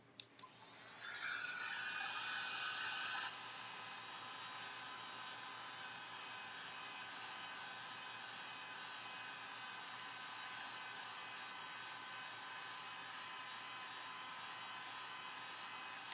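A blow dryer runs steadily to dry red paint on a papier-mâché box, a loud whooshing blast at first that settles into a constant, slightly softer hum, with no talking.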